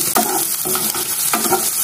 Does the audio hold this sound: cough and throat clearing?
no